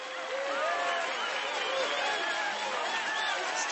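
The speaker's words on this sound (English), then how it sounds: "Stop clapping right now." An animated theater crowd cheers and claps after a staged King and I number: a steady, moderately loud roar of voices and applause, with rising and falling whoops throughout.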